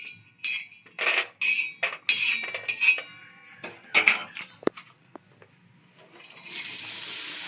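Grated coconut roasting in a pan with repeated metallic scrapes and clinks of a spoon stirring, in short irregular bursts, ending with a steady soft sizzle.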